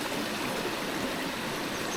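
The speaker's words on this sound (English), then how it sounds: "Love that sun shower look with the rapids." River rapids flowing outdoors, a dense, steady rushing of water, close and continuous, with no talking.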